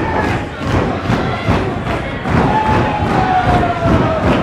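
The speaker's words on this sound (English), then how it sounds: "The fans are pounding the mat, cheering both these men on." Wrestling fans at a live match pound the mat in a loud, steady rhythm of thuds while the crowd cheers and roars continuously.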